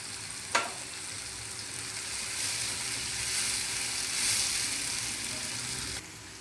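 Ginger sizzles steadily in hot oil in a pan, a continuous close frying hiss with one sharp tap near the start as it goes in, then an even crackle with no voices.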